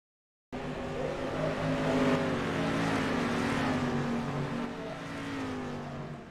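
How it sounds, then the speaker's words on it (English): Dirt street stock race cars lap the Lakeland track in practice, engines roaring loud and steady with a swelling pass in the middle and a continuous rumble throughout. "So these dirt street stocks doing their thing here at Lakeland, trying to put down the best possible lap they can here in practice"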